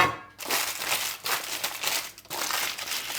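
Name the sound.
crumpling paper to fit a cake mold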